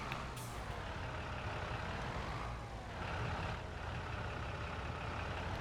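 Tractor rolling over a growing crop in Farming Simulator 2022, a steady droning engine rumble with tire and machinery noise that swells slightly midway, continuous and fairly close, no voices.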